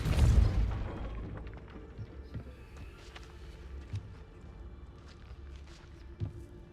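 Depulso force spell blast in Hogwarts Legacy gameplay: one heavy, low booming thump at the start that quickly fades into soft scattered thuds and footstep-like taps, fairly quiet overall.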